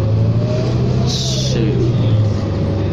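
An Excelsior 40-foot low-floor city bus on route 4 pulls away with a steady, close diesel drone and rising engine pitch, plus a brief hiss partway through.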